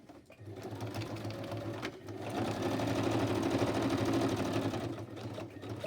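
A sewing machine stitches through the layers of a mini journal made from magazine pages, a close continuous mechanical whir with a rapid needle rhythm that pauses briefly partway through and then resumes.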